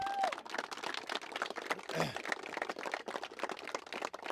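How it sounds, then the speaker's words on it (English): A community crowd at an outdoor Bataan Memorial Death March event in Prescott gives a round of applause, a steady, somewhat distant patter of many hands clapping with faint voices underneath. "Let's give them a round of applause."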